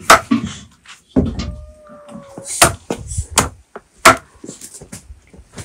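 Cooked duck meat is chopped on a board with a cleaver, giving a series of sharp, irregular thwacks close by, some hard and isolated, with a brief tonal squeak between blows.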